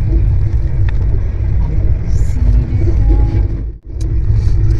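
Car rumbling and jolting along a bumpy road in the early morning, a steady low rumble with brief dips and bumps, heard from inside the vehicle.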